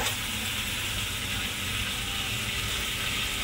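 Marinated rooster meat sizzles steadily in a hot pan as it is slowly sautéed, a constant, even hiss and crackle with no pauses.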